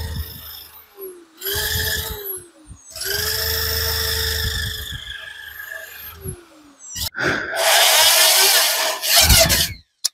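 A motorcycle fuel tank is worked on with a power tool, giving loud grinding and sanding bursts that start and stop repeatedly, the whining pitch dipping and rising between passes.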